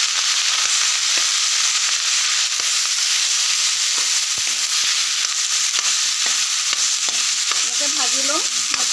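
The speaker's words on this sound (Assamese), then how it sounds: "এনেকৈ ভাজি ল'ম ভাতখিনি" Cooked rice fries in hot oil with cardamom, cinnamon, salt and turmeric in a wok for egg fried rice, giving a steady close sizzle broken by scraping stirs, with no talk.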